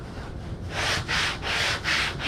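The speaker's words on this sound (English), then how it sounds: "now I'm going to use some sandpaper and just start sanding the" Sandpaper rubbing back and forth across a seam in four steady strokes, a rhythmic scratchy hiss that swells and fades with each pass.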